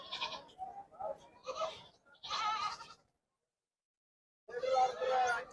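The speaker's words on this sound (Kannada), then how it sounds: "ಇಲ್ಲೊಂದು ಓತ ನೋಡ್ರಿ" Goats bleating at the Kolhar goat market, several loud close bleats in short bursts with a pause between, against a quiet background.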